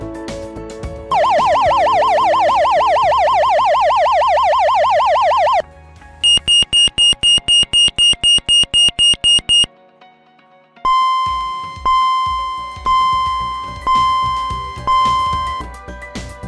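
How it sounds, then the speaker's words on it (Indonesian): Emergency alarm tones from an oil and gas operations area alarm system: a loud continuous warbling wail, then a rapid series of high beeps, then repeated long steady tones, all loud and close with no speech. "apabila Anda mendengar alarm seperti berikut"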